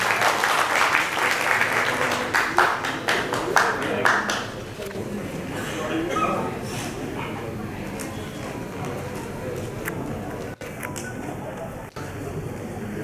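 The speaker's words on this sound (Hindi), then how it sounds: "चोपड़ा जी को एक बार जोरदार तालियां जी सकते हैं।" Press conference attendees clap in a burst of applause that fades after a few seconds, followed by room noise and people speaking.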